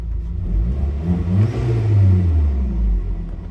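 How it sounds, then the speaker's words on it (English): Volkswagen Tiguan engine, fitted with a motor mount spacer, revving up and easing back down, a loud close rumble rising and falling over a few seconds with no talk. "I don't feel it when I rev either."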